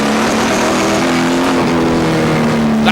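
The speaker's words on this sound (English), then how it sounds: "That is the sound of awesome V8 power around this Warnerton Raceway." A V8 stock car engine at Warnerton Raceway revs hard as it accelerates out of a bend, a loud, close onboard roar with a steady droning pitch that climbs slowly throughout.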